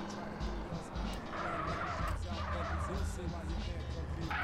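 A car in GTA San Andreas skids and squeals its tires for several seconds, a steady harsh screech over engine roar, with a voice talking over it.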